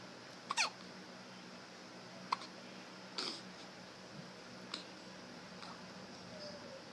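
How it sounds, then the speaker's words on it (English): A baby girl's small hiccups come as a few brief, faint, squeaky clicks spread irregularly through a quiet room, the first one the clearest, with no talk. "Got your hiccups?"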